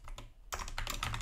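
Quick keystrokes on a computer keyboard come close and fairly soft, first as a few scattered taps, then a brisk burst of typing with no voices.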